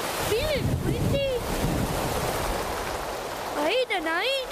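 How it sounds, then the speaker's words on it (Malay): Steady rain pours down in a cartoon scene, a dense, continuous wash of falling water filling the whole clip, with voices briefly heard over it. "Ish, hujan ni. Bila nak berhenti?"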